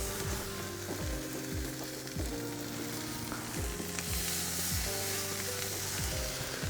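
Meat sizzles steadily as it is laid onto a hot grill, a dense, continuous frying hiss at moderate loudness with faint background clatter and no talking.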